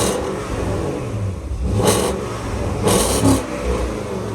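2013 Porsche Cayenne GTS engine running cold at a loud idle, a steady low rumble with two short revving swells, close by with no talk.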